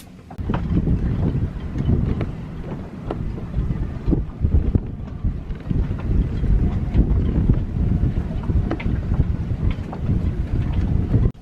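Strong storm wind gusts roar and buffet against a sailing boat off Scotland, a rough, rumbling, continuous noise with irregular surges and thumps.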